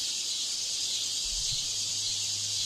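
A cicada drones in the woods with a steady, even high buzz that holds unbroken from start to finish, with a faint low rumble beneath it.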